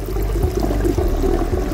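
Water runs out of the valve of a flood and drain bed in a steady, moderate stream, with a continuous trickling and pouring sound close by and no speech.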